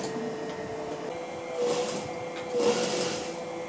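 A sewing machine hums while stitching Patiala pant fabric, a steady close whir that swells briefly twice as the motor speeds up.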